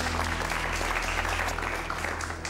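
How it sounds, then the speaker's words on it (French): A warm round of applause welcomes a speaker, steady crowd clapping over a low hum and faint tonal background. "Je vous demande d'applaudir chaleureusement quelqu'un qu'on ne présente plus."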